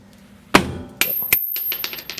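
A metal socket clacks sharply against the side of a tool box, followed by a couple of lighter metallic taps and small clinks, close and loud with no talk.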